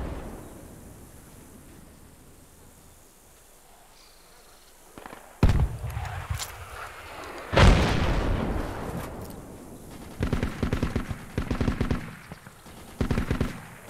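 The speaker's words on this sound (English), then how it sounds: "I'm getting tired of them shooting at us, honestly." Machine gun fire in the military shooter game Project Reality: after a quiet stretch, loud close bursts break out, followed by repeated rapid volleys of automatic gunfire in the final seconds.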